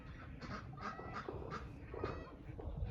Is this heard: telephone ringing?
no